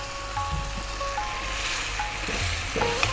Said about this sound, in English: we're going to drop in the hard-boiled eggs